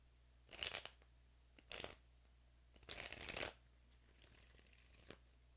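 Tarot cards being shuffled by hand, heard as three brisk riffling bursts separated by short pauses, close and fairly quiet, with no talking.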